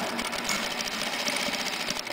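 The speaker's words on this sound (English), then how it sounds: "and then you stitch on the top line." A sewing machine stitches the top line of a gathered sleeve band with a double line, running steadily and close at a fast even whir the whole time.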